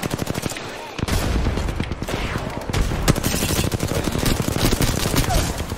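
Rapid bursts of video game gunfire crackle densely and loudly through the whole stretch, a steady barrage with a brief lull near the start, amid a busy online match.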